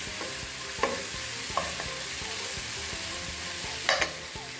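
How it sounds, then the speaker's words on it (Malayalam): Tamarind water poured into a pan for panikoorka rasam, a steady close sizzle with faint splashy hiss and a few sharp clinks of a spoon against the pan, no talk. "ഇതിലേക്ക് പുളി വെള്ളം കൂടി ചേർത്ത് വെക്കുക."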